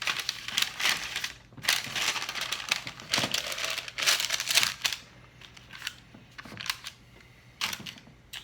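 Parchment paper crinkling and crackling as bread dough is settled onto it in a bread pan, with loud dry rustling bursts and brief pauses between them, close up, no voices.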